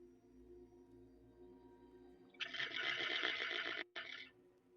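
A person imitates a horse whinny with a short, strained, quavering squeal that rises over faint background sounds and breaks off briefly before a final burst.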